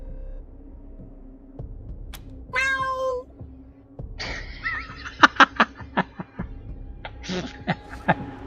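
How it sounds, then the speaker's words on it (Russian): A cat in the video game Wasteland 3 gives a few meows over a low hum, followed by a quick series of sharp clicks and short bursts. "О, кошка."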